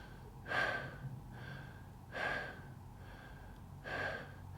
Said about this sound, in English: Take a moment to get adjusted to a faster than normal breathing that you can easily sustain.